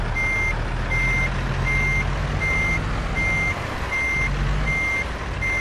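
A reversing truck sounds steady, loud, evenly spaced beeps over a constant heavy engine rumble, with no talk.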